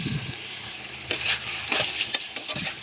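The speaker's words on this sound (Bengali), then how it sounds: "তেল গরম হয়ে আসছে। এই যে করলা আর আলুগুলো এখন আমি দিয়ে দিব।" Sliced bitter gourd and potato hit hot oil, crackling and sizzling steadily with a few sharp metallic scrapes of a utensil stirring in the pan, close and fairly faint.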